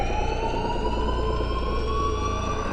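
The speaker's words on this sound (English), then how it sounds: "the only thing we, the audience, hear is a persistent alarm siren" A persistent alarm siren wails steadily throughout a tense scene in the 2007 Halloween film, loud and unbroken with a slowly rising tone over a dense rumbling background.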